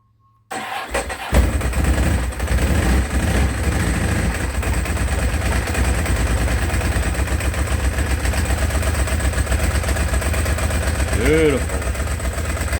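A Ducati 749S motorcycle engine cranks and fires with a sharp catch, then settles into a loud, lumpy, steady idle that runs on without a break.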